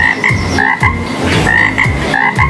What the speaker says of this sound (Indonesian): Katak muda sudah dapat hidup di darat loh.